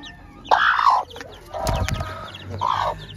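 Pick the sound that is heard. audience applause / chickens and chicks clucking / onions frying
chickens and chicks clucking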